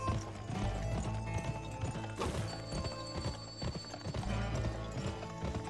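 A horse gallops in the 2005 western video game GUN: steady, close clip-clop hoofbeats keep up a continuous driving rhythm, with a whinny and game music underneath.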